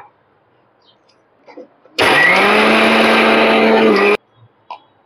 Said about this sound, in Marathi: हे जे पोहे आहेत ते मिक्सरला लावून घेऊया